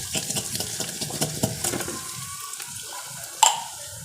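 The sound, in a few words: corned beef frying in deep oil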